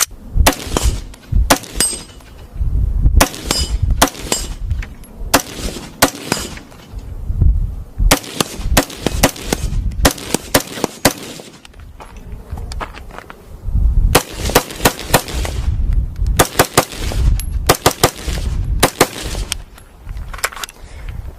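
Aero Precision M4E1 rifle with a LaRue trigger firing at an outdoor range, loud sharp shots in quick bursts and single reports, repeated throughout.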